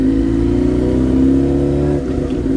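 A motorcycle engine accelerates after an upshift during a beginner riding lesson. It makes a steady, loud mid-pitched drone that dips briefly near the end as the revs change.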